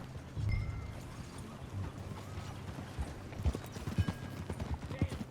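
Horse hooves clip-clop in a steady ride through Red Dead Redemption 2, with tack creaking and a soft snort. The hoofbeats stay moderately close, and a faint voice can be heard in the background.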